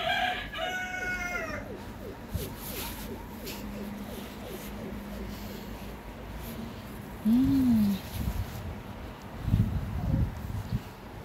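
A rooster crows nearby, joined by clucking chickens, while people chatter in the background, at a mountain elementary school in Busan.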